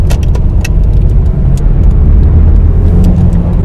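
Coca-Cola trucks roll past close by with a loud, continuous rumble of road traffic and a few sharp clinks on top, and no voices.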